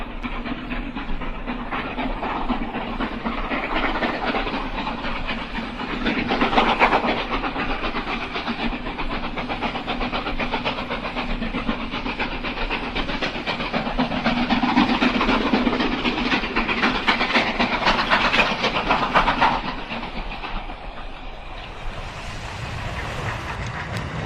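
A steam train crosses a lakeside viaduct, its steady chugging rumble and hiss heard from a distance, swelling slightly and then fading toward the end.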